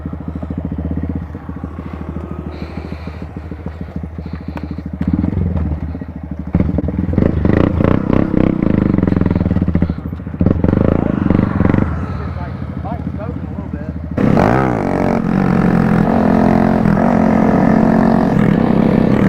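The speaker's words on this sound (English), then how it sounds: "In the front, they're pretty good at wheelies, a lot better than me and Jacob over here." Motorcycles riding wheelies rev their engines loudly and steadily nearby, with the engine note rising and changing partway through. People talk over the engine noise.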